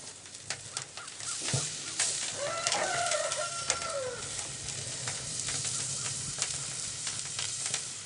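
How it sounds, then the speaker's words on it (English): Continuous sizzling and popping from a ham steak cooking on a grill, while birds call faintly in the distance. "Listen to that sizzle."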